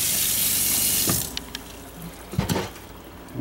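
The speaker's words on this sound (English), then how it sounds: "You have a retractable hose, and you can also change whether it's spray or solid." Water sprays from the retractable hose of a 2023 Cougar 2700BH RV kitchen sink, a steady loud hiss for about a second that then cuts off, leaving faint handling clicks and knocks.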